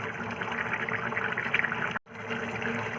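Water pours steadily into a pan of simmering homemade chicken curry, a continuous splashing, gurgling stream, close and fairly loud, with a brief break near the end before it resumes.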